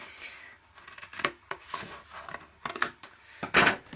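Scissors cutting paper at an angle for a mini album pocket, a series of close, crisp snips and rustling paper strokes in uneven rhythm, with no talking.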